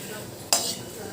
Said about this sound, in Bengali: একটু নাড়াচাড়া করে লঙ্কাগুলো ভেজে নিয়েছি।